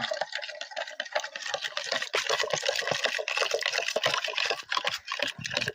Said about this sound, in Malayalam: ഇതിനകത്തേക്ക് 1/2 ലിറ്റർ വെള്ളം ചേർക്കണം.